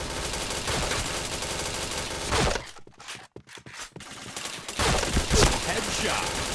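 Point Blank gunfire rattles in dense rapid bursts, pausing briefly midway before resuming loud and continuous, with game effects layered in.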